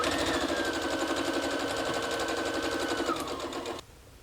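A sewing machine stitches a row of a nine-patch quilt block, running with a steady, rapid mechanical chatter for nearly four seconds at close range before stopping abruptly.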